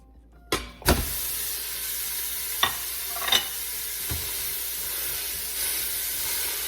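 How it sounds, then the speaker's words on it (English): Extra lean ground beef hits a hot Instant Pot on sauté mode with a sudden loud burst, then settles into a steady sizzle marked by occasional clanks and scrapes of a utensil. "When the Instant Pot is hot, add 1 pound of extra lean ground beef."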